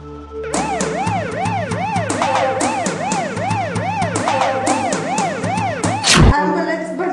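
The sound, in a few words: ambulance siren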